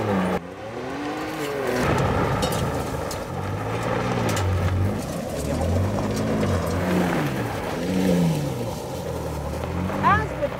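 Ford Ranger Raptor V6 truck driving off road, a steady engine drone with rising and falling revs throughout, continuous and fairly loud, with people talking over it.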